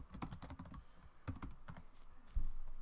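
Keys clacking on a computer keyboard as a folder name is typed, a quick run of close, crisp taps with short pauses and a heavier thump near the end.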